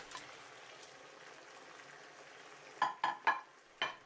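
Beef meatballs frying in General Tao sauce give a faint, steady sizzle and bubble, then several sharp clinks from stirring near the end, close and fairly quiet.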